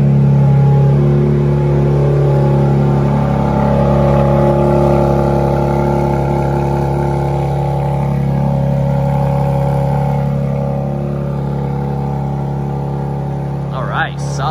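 A BMW X3 M in sport mode starts up nearby with a loud rumble that settles into a steady, droning idle, while someone talks over it.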